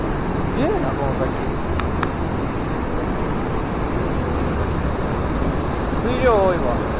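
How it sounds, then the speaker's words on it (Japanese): A roaring waterfall on a spring mountain stream, swollen with heavy snowmelt flow. It makes a steady, dense, close-up rush of water that never lets up, with a few brief high chirps over it. "すげえな、この滝。"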